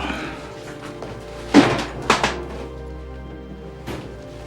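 A top drawer is pulled open with a couple of close, dull wooden knocks and thumps, then a fainter bump a moment later over a low steady room hum.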